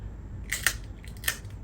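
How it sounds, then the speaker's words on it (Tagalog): Kitchen scissors scrape scales off a milkfish (bangus) being prepared for cooking, giving three sharp, close scratchy bursts in quick succession against a quiet background. "Mas magandang pang-alis itong gunting, mga idol."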